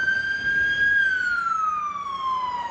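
A loud ambulance siren close by, its tone holding and then sliding downward as the ambulance passes and moves away.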